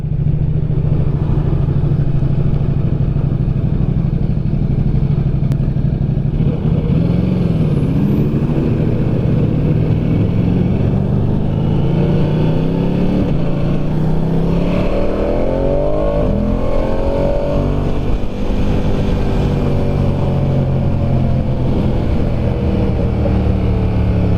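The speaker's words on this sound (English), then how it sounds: "Yeah, downshifting is good." A 2022 Ducati Diavel 1260S motorcycle downshifts on the road, its loud engine note dropping and rising in stepped sweeps under heavy wind noise.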